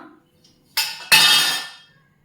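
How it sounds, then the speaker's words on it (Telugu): A pan set down on a kitchen stove, two close metallic clanks, the second louder and ringing briefly before fading into quiet. "బాండిల్నే దీన్ని స్టవ్ పైన పెట్టేద్దాం"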